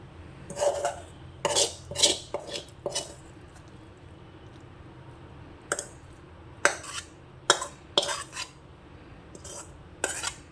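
A spoon scrapes and clinks against a pan as cooked brinjal and onion curry is scooped into a bowl, in irregular bursts of metal scraping with quiet gaps between.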